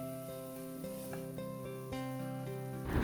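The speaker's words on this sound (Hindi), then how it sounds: "अब इन सारे इंग्रेडिएंट्स को हमें फिर से चलाते हुए पकाना है" Masala ingredients with asafoetida are stirred and cooked in a pan for raw-banana kofta curry, giving a soft, steady sizzle with light scraping from the stirring and occasional faint clinks.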